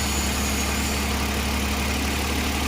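A Suzuki K6A engine runs steadily after its crank and cam sensor fix, giving a loud, constant idling drone with an even hum and no break across the short stretch.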